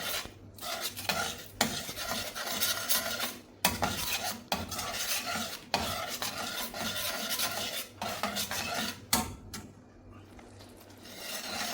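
A spoon stirring water, salt and masala in a pot for Kerala-style spinach curry, scraping and rasping against the metal in uneven strokes with short pauses, close and fairly loud with a faint sizzle.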